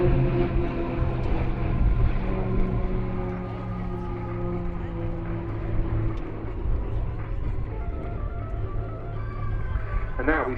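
Aerobatic display jets of the Royal Jordanian Falcons team fly at the Duxford Summer airshow, a steady, moderately distant engine drone with shifting tones, and a commentator talks over it throughout.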